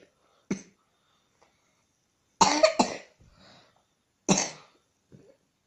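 A child coughs during a home ice remedy for a cough: a short cough, then two louder harsh bursts a couple of seconds apart, with quiet gaps between them.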